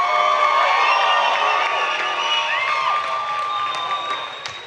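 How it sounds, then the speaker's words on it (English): Crowd at a boxing event cheering and applauding the main-event fighters: a dense wash of shouts, whistles and clapping, loud at first and slowly fading over a few seconds. "one more round of applause for our main event competitors tonight"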